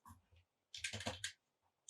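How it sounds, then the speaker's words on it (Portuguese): Computer keyboard keys pressed while editing photos in Lightroom and Photoshop: a couple of light taps, then a quick close burst of several clattering keystrokes. "aperto a tecla X no teclado e apago o que eu fiz"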